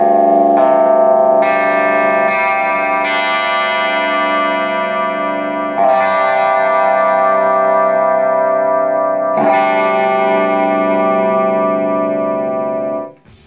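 Guitar strings in open D G C G G D tuning, struck one after another through effects with distortion, chorus and reverb, each note layered into a loud sustained wash that cuts off at the end.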